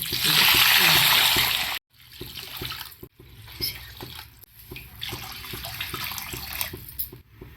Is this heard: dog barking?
no